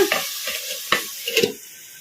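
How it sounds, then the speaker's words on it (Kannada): Chicken frying over a low flame in a pan with a plate as a lid: a few quick stirring scrapes and soft sizzling bursts, close and fairly loud, fading into quiet. "ಒಂದು ಸ್ವಲ್ಪ ಹೊತ್ತು ತಟ್ಟೆ ಮುಚ್ಚಿ ಫ್ರೈ ಮಾಡ್ಕೊಂಡ್ಬಿಡೋಣ"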